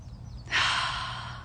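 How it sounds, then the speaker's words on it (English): A single deep breath during a quiet pause on a hike: a faint intake, then a louder, airy exhale that swells and holds for about a second, close up with no talk. "Let's do one more deep breath in."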